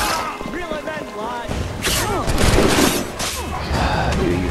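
Rifle shots ring out in the Assassin's Creed 3 video game, a few sharp cracks and thuds scattered among in-game voices and background clamor.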